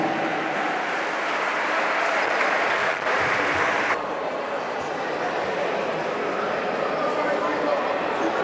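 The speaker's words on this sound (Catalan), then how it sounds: "Un fort aplaudiment." Audience applause at a handball club's team presentation in an indoor venue, a steady dense wash of clapping lasting throughout, with a slight drop in intensity partway through and faint voices mixed in.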